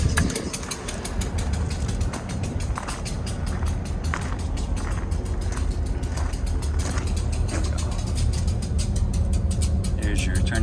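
Hand replenishment pump on a KBR925 ballast regulator worked back and forth, repeated ratcheting mechanical clicks and creaks close by over a running engine hum, with someone talking.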